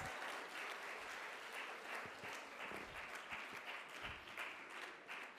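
Audience applause at the grand final of a public sector debate competition, steady and sustained clapping from a crowd throughout, fairly quiet and heard at a distance.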